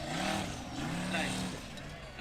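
A Formula Offroad car engine roars loudly and steadily at a competition in Hella, Iceland, the Spade at work under a commentator's talk.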